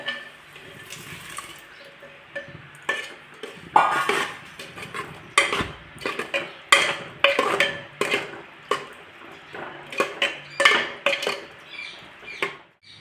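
Boiled moong and chana dal tipped into a pan of softened tomatoes and stirred, a run of wet scraping and clattering ladle strokes against the pan that grow steadier and more rhythmic, close and fairly loud.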